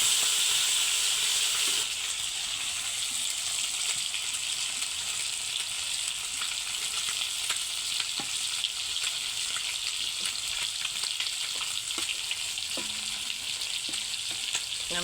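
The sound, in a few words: fish frying in a pan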